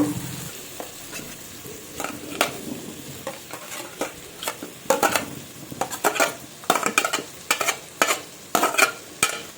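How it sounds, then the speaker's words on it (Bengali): Chopped tomatoes and whole garlic fry in a pan while a utensil stirs them, giving a soft sizzle under repeated scraping and clinking strokes that come faster and louder toward the end. "এখন একটু ভালোভাবে নাড়াবো"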